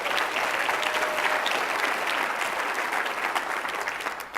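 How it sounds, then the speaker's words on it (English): Sustained audience applause at a symposium opening session, a dense, steady wash of many hands clapping for several seconds that begins to thin at the very end. "Can we give him a big round of applause?"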